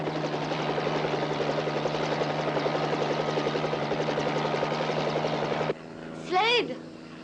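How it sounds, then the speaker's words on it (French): Helicopter rotor and engine thudding steadily and close, a loud continuous drone that cuts off abruptly near the end, followed by a brief voice. "Voilà l'hélicoptère!"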